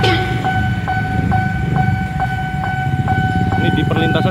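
At the JPL 46 Pondok Jati railway level crossing at night, a two-tone crossing bell rings in a steady repeating pattern while a train rumbles past nearby, with someone speaking over it.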